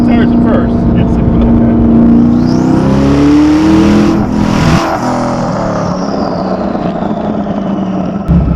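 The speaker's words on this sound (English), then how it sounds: "So we'll spin the tires at first." A Hennessey GT1000 twin-turbo Ford GT launches with its tires spinning, the engine roaring loud and close as its pitch climbs steadily, peaks mid-clip, then settles into a sustained, heavy drone.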